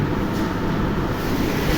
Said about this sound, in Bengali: নপাড়া রেল স্টেশন থেকে আসলে ট্রেন যে এত দ্রুত চলে ছুটে চলে